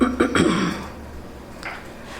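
Someone clears their throat close by with a few rough, raspy bursts, then a quieter breathy sound follows.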